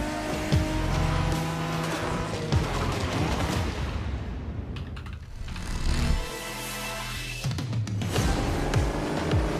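Japanese-style night street racing cars in a video game trailer: engines roaring and revving continuously, tires squealing and skidding, cars whooshing past in a loud, busy mix with a brief lull midway.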